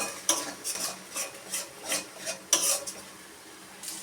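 Chilli and cumin powder being stirred into fried pointed gourd in a pan for potol rosha, heard as steady rhythmic scraping and rubbing strokes of a spatula, close and moderately loud with no voices.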